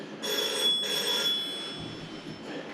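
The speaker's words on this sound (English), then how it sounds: "Old school phone going." An old-fashioned telephone bell rings steadily in a bathroom being stripped out, a continuous metallic trill lasting a few seconds with no voices over it.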